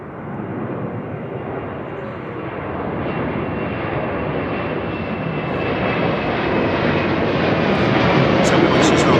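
A Boeing 767 jet airliner with large wingtip extensions departs overhead from London Heathrow Airport, its engine roar loud, broad and steadily building as it climbs past.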